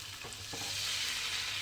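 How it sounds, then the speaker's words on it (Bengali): Stirring and frying a drumstick (sajne data) curry in a pan: a steady close sizzle with a couple of spoon scrapes near the start, no talk. "এইবারে এটাকে একটু জাস্ট নেড়ে চেড়ে রান্না করে নিচ্ছি।"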